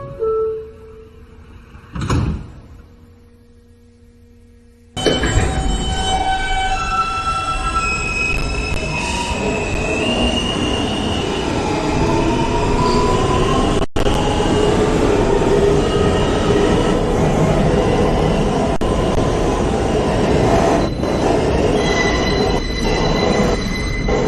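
A New York subway N train, Manhattan-bound on the Broadway Local near New Utrecht Avenue, rolls loudly with constant rumbling and long, high wheel squeals that rise and fall, after a brief quieter moment at the start.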